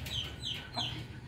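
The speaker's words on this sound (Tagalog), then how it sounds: "update sa ating mga alagang manok." Free-ranging chickens grazing on grass in a farm ranging area give soft, nearby clucks, a few short calls over a steady outdoor background.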